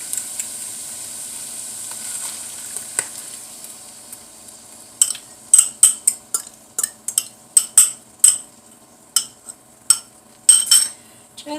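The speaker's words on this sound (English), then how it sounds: "I'm just going to add my egg to this pan." An egg goes into a hot pan for a simple breakfast omelet, bringing a soft, even sizzle that gives way to a run of bright, sharp metal clinks and taps, close and irregular, over the quiet frying.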